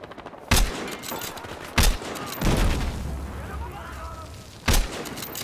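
Gunfire in the video game Battlefield Hardline: several sharp, loud shots at irregular intervals, with a brief rumble after one, over a low game background and some speech.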